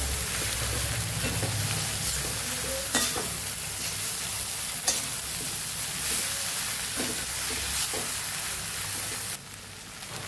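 Puffed rice khichdi stirred in a pan on low gas: a steady sizzle and hiss with occasional scraping strokes of the spoon, close and continuous, without speech.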